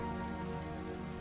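Rain falls on a surface at night near a deserted village with a slippery road, giving a brief, steady, even wash of sound with no voices.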